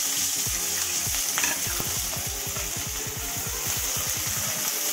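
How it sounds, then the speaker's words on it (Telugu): Onions and green chilies fry loudly in a pan with a dense, constant sizzle close up, overlaid by rapid rhythmic scraping strokes of stirring throughout. "కొంచెం దోరగా వేయించుకోవాలి."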